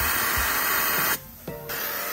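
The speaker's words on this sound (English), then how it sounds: "Then spray it inside the unit." A steady aerosol cleaner spray hisses continuously inside an air conditioner unit, briefly cutting off and then resuming, close and fairly loud.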